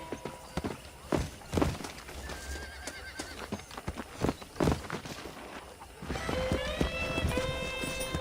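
In the video game Red Dead Redemption, hooves clip-clop over ground with heavy thuds, then a horse neighs loudly with a drawn-out whinny over a steady background, close by.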